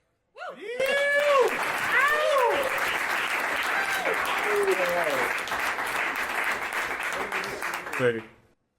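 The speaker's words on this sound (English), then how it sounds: "Why don't we clap or something" An audience at a Lisbon AI Week panel event bursts into sustained applause mixed with whoops and cheering voices, rising quickly, holding steady for several seconds, then tapering off abruptly.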